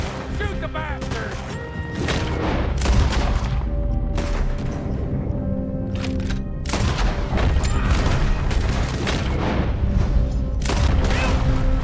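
Rapid gunfire from a shootout in the video game Red Dead Redemption 2, with dense overlapping shots and booms over a loud, continuous background, while shouting voices sound among the shots.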